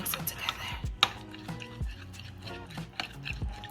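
Homemade dipping sauce with honey being mixed in a bowl, with close clinks and taps of a utensil against the bowl and soft sticky stirring sounds in short irregular bursts.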